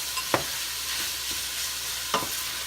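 Onions frying in a skillet for sausage and jalapeño cornbread: a steady close sizzle with a few sharp utensil taps and scrapes.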